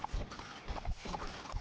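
Horse hooves in Red Dead Redemption 2 clop in a quick, steady galloping rhythm, moderately close, over a soft outdoor game ambience.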